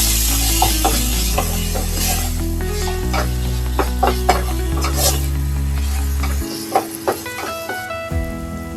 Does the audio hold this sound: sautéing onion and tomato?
yes